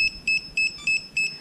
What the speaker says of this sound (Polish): Od razu pinpointer zaczyna nam pikać i sygnalizuje znalezienie.